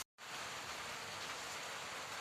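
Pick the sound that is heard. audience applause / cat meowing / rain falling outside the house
rain falling outside the house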